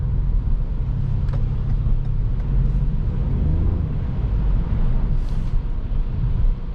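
A 2021 Toyota Yaris hybrid (116 hp) drives smoothly at night, giving a steady, even interior hum of road and engine noise with no voices.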